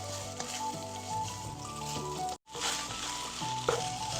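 Steady loud sizzling of spaghetti noodles stir-frying Thai style in a hot pan, with a brief dropout midway and faint clinks of stirring.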